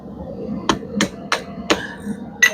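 Hammer striking hot metal while forging a blacksmith's chain hook, five sharp ringing blows at an uneven pace, close and loud with no talk.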